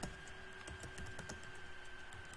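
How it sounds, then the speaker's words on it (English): Commands are typed on a computer keyboard in a Linux terminal, producing quiet, rapid key taps in an uneven rhythm over a faint background hum, with no talking. "see the way I am typing the commands"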